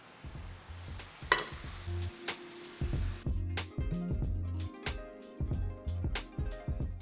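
Mushrooms sautéing in fat in a pan with thyme give a steady close sizzle broken by a sharp clatter and repeated scrapes and taps of stirring against the pan.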